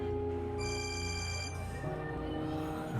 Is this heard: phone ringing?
yes